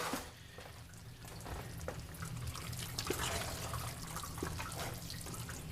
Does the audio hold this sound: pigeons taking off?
no